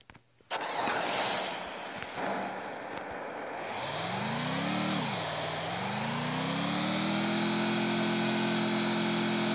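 A car engine in the Free Fire video game starts up and accelerates, its pitch rising, dipping briefly, then holding a steady loud drone for several seconds with no one talking.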